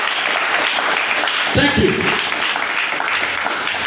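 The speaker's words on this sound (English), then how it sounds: "Give yourself a round of applause" Crowd applause at an outdoor gathering of Liberian motorcyclists, a steady wash of clapping that swells briefly partway through, with a speaker talking over it.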